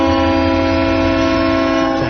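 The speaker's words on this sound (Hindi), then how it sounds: "ट्रेन की सीटी" A train whistle in a Hindi action survival thriller film blows as one loud, steady, multi-toned blast that holds unbroken for the whole moment, with a low rumble underneath.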